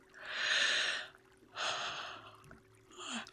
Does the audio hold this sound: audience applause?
no